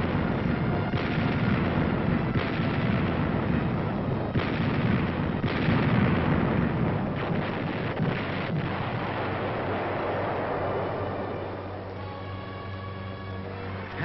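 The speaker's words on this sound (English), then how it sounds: "the big guns of the fleet smashed enemy strongholds miles away" Navy fleet's big guns bombarding enemy strongholds on shore in a 1945 war film, a run of heavy booming salvos and rumbling blasts over a steady, muffled roar, with no speech.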